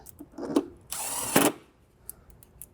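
Power drill driving two 10mm screws into the lower air box section of a BMW E90 M3, two bursts of whirring about half a second apart, close and loud, with a small tap before.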